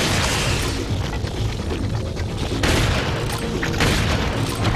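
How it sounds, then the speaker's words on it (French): Shotgun blasts boom in Resident Evil 4 on GameCube, loud heavy shots at a couple of distinct moments over dense, continuous combat noise, no voices. "Oh, ce carnage au fusil à pompe!"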